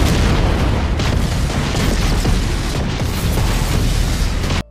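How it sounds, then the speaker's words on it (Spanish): Bombs dropped by a fleet of airships explode in an anime battle, a continuous loud rumbling barrage of deep booms and bursts that fills the whole stretch before cutting off abruptly. "La flota de dirigibles va al encuentro lanzando una gran cantidad de bombas hacia este."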